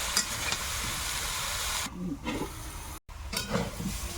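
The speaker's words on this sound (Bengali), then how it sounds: "এটা ভালো করে ভেজে নিয়েছি" A vegetable stem curry fries in a pan with a steady crackling hiss, interrupted by a brief quieter moment and a short dropout, then the sizzle resumes with some stirring and handling noise.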